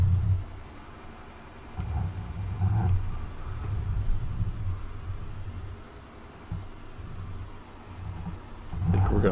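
A Valtra tractor with skinny tires drives in Farming Simulator 19, its low engine rumble swelling and easing unevenly throughout, with no speech.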